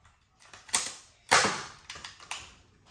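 A toy laser gun fires a few times, each shot a short mechanical click-and-burst, with two louder shots and several softer ones spaced irregularly at close range.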